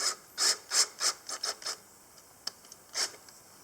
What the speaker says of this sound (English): the screw's hitting something in the shaft